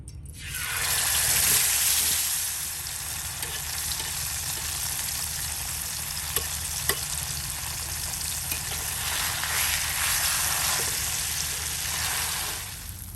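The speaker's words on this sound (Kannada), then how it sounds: "ತೆಂಗಿನೆಣ್ಣೆ ಹಾಕ್ತಾ ಇದ್ದೀನಿ ಮೀನು ಫ್ರೈ ಮಾಡಲಿಕ್ಕೆ" A large masala-coated tongue fish fries in coconut oil, a continuous loud close sizzle that swells at the start, holds steady with a couple of small clicks, then eases slightly at the end, no talking.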